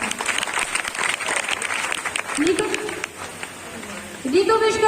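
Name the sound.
loud applause at convocation ceremony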